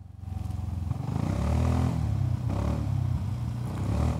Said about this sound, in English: The exhaust sound is nice.